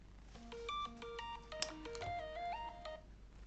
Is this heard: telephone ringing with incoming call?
yes